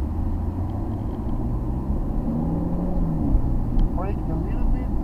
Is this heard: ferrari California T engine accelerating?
yes